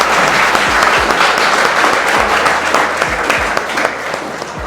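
Enthusiastic applause from an audience at a Teacher's Day gathering congratulating NEET students on winning MBBS seats, a loud, dense wash of clapping that runs steadily for the whole stretch with a few low thumps beneath it.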